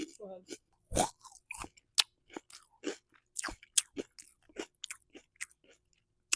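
A crunchy snack chewed close to the mic in ASMR style, with sharp crunch bursts at an irregular rhythm and someone talking between bites.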